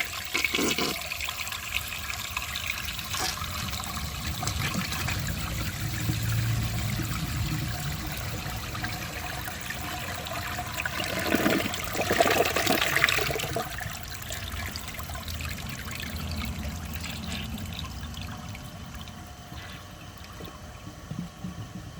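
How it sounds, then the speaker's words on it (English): A 2004 Gerber Aqua Saver toilet with a full tank flushes close up in a loud rushing gush that swells and drains, with a second surge midway like an almost double flush, then settles into trickling refill. "I think it'll flush about like any vintage toilet, but it will probably also double flush"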